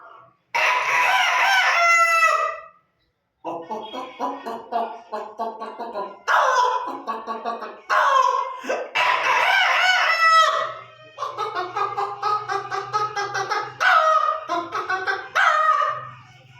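A person imitates a rooster: repeated loud, drawn-out crowing calls come one after another, separated by brief pauses, with lower clucking sounds in between.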